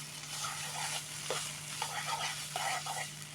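Sweet pumpkin laddu mixture is stirred in a pan, with soft sizzling and intermittent scraping strokes over a low steady hum, fairly quiet and close.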